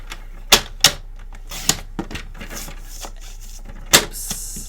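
Card stock is trimmed to size for card making, giving a handful of sharp, close clicks and snaps spaced irregularly over quiet background, with no voices.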